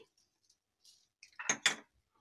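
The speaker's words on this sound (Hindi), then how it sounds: "अब मैं इसमें ये चाट मसाला मिला मिक्स कर दूंगी" A spoon mixes chaat masala into fruit chaat in a bowl, giving faint scrapes followed by a couple of closer clinks and knocks against the bowl, with no talking.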